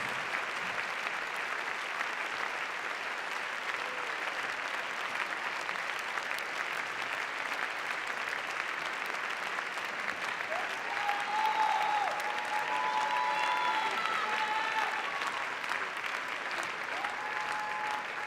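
Sustained audience applause for professional Latin ballroom dancers at a UK 2017 championship, a dense steady clatter of many hands filling a large hall, swelling slightly near the end with a few faint whistles or cheers.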